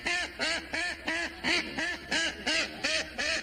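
A duck quacks repeatedly on a farm, about nine loud, evenly spaced nasal quacks close by, with no talk over them.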